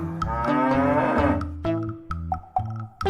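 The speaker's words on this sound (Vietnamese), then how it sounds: "Dairy cow." A dairy cow lows in a long, loud, close moo, followed by shorter broken lowing calls, alone with no talk.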